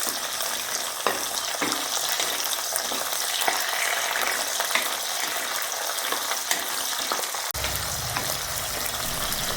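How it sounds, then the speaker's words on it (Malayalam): Shallots and garlic sizzle steadily and loudly in a hot pan, with intermittent scraping and stirring clicks and no talk. "നമ്മൾ എടുത്തു വച്ചിരിക്കുന്ന ഉള്ളിയും കൂടി നമുക്ക് ഇതിലേക്കിട്ട് നന്നായിട്ടൊന്ന് വഴറ്റിയെടുക്കാം"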